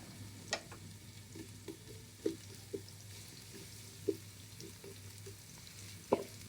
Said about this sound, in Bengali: পেঁয়াজটা বেশ ভালো করে ভেজে নিতে হবে